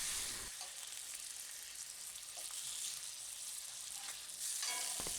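Bacon fries in a cast iron pan with a steady, soft crackling sizzle that swells slightly as the strips slide around, with no voices.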